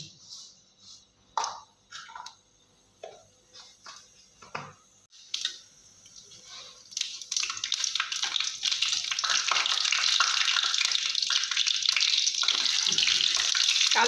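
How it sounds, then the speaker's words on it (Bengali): Dry red chillies and black cumin frying in mustard oil in a kadai: soft scattered crackles at first, building into a continuous loud sizzle that holds to the end, with no talk. "জিরা শুকনো লঙ্কাটা বেশ একটু ভালো করে ভাজা হয়ে গেলেই"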